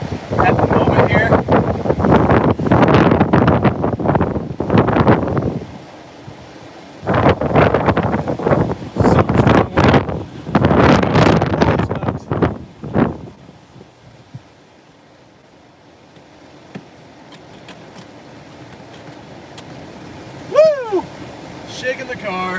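Strong windstorm gusts at Rockaway Beach, Oregon, buffeting and shaking a parked car in loud roaring bursts that rise and fall, with calmer stretches between.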